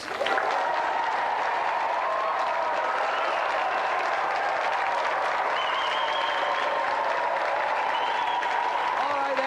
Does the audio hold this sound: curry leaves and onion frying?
no